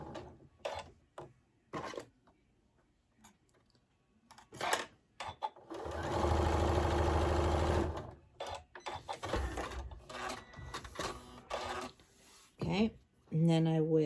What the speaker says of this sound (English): I'm just going to start sewing down